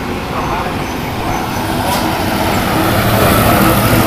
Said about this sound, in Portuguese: Tá vindo um caminhão.